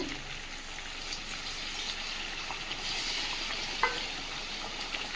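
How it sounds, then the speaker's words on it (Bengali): Meat being well fried and stirred in a pan during home cooking, with a steady soft sizzle throughout, a few light scraping clinks of a stirring spoon, and no talking. "মাংসটা ভালোভাবে কষিয়ে নিয়েছি জল দিয়ে দেব"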